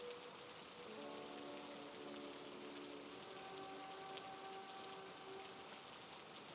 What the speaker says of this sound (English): The rain continued its steady song against the roof